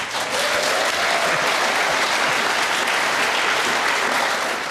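A large crowd at a sports car club event applauds steadily to welcome a panel, a dense, loud, continuous roar of clapping that holds throughout without any speech.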